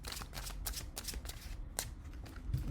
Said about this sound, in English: Good shuffle and another good rifle on these.